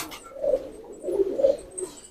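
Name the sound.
old pigeons cooing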